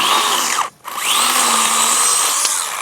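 A Stihl electric chainsaw cuts through a branch of an old fig tree, its steady high motor whine loud and close, briefly dipping as the load bogs it down before it revs back up.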